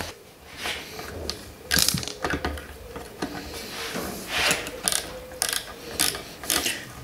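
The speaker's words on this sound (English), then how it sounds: "I'm just undoing this bolt" A ratchet loosening a bolt on a 200cc pressure washer engine, heard up close as quick bursts of clicking and metallic clatter with brief pauses between strokes.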